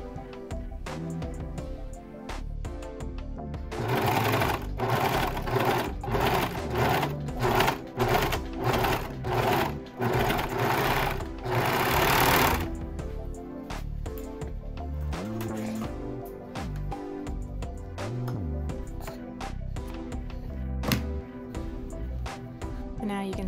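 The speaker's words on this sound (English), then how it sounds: "And then I'm going to just serge this down over the top of it." A serger sewing machine stitches a seam over fabric binding for a wrap bodysuit, a fast, loud mechanical whirring in rapid pulses for several seconds, then softer handling sounds.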